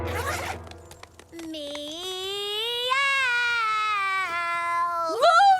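A cartoon character imitates a cat, letting out a long, drawn-out tonal meow that rises and wavers for several seconds, then ends in a short upward squeal. A brief burst of other noise comes before it.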